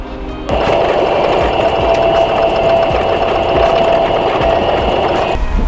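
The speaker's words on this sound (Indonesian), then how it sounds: "Lalu kita jahit." A sewing machine runs in one steady, continuous burst of stitching on a bag strap, close and loud, starting abruptly and stopping near the end with no talk.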